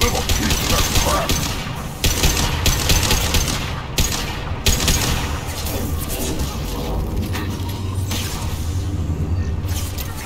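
Sustained gunfire in the video game Mass Effect 2, with dense bursts of shots and booming impacts over a constant roaring battle background, with voices mixed in.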